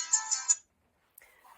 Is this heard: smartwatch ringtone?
yes